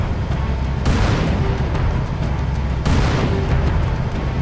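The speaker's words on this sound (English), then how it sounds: "you need to shoot the Wraith off of it" Two heavy tank cannon blasts in Halo 2, fired to knock a Wraith off a Phantom on the Metropolis level: each boom is loud and close, with a long rumbling decay, and the two are about two seconds apart over steady battle noise.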